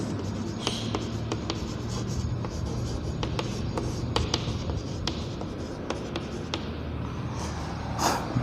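Chalk or marker scratching across a classroom board during a chemistry lesson on cell potential, a series of short crisp strokes and taps in a quiet room, with a voice speaking faintly at moments.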